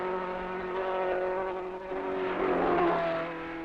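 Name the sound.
Formula One race cars racing past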